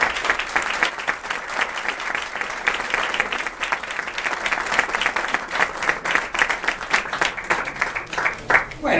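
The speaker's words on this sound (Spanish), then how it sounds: "un aplauso para él" Theatre audience applauding at a foundation event, sustained crowd clapping with an uneven, pulsing rhythm that carries on for the whole stretch, with some voices mixed in.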